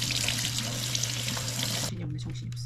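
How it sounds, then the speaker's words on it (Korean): Running tap water splashes steadily over raw lamb in a kitchen sink, a continuous close rush that cuts off abruptly, leaving quieter handling noises. "우선 물로 샤워 좀 시켜주고요."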